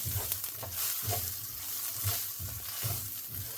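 Ginger garlic paste frying in a pan for cashew curry, a soft continuous sizzle with rhythmic low scraping strokes of a spatula stirring, fairly quiet and close.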